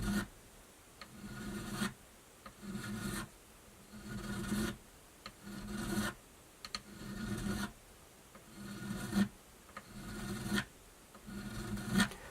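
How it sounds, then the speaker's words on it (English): Steady back-and-forth rasp of a file leveling the frets on a Charvel guitar, repeated strokes in an even rhythm roughly every second and a half, close and moderately loud, with no talking. "Not a lot of force on the file, just let the file do the job for you."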